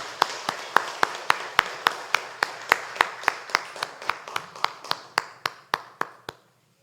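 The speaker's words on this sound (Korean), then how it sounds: "하나님께 영광의 박수 올려드립니다." A church congregation at a Sunday worship service claps in slow, even unison, about twenty-five crisp beats that ring in the room and end abruptly.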